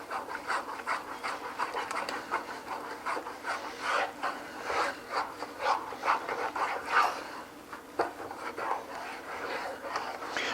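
A wooden spoon or rubber spatula stirs a thick bird suet mixture of fat and dry ingredients in a pan, making close, continuous rhythmic scraping and rubbing sounds with no talk.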